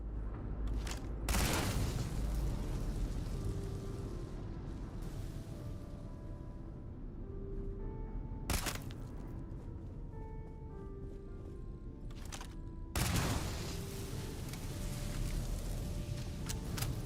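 Gunfire in the video game Starfield as security cameras are shot, a few sharp loud cracks standing out among rumbling bursts and a dense, noisy background of combat sounds.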